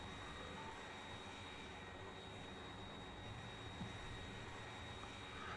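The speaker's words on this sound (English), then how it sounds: "All the planes sound like a vacuum cleaner. It's just the better planes sound like a faster vacuum cleaner." Steady, unbroken whooshing drone of a plane engine in the video game Factorio, a vacuum-cleaner-like roar holding at constant loudness throughout with no talk.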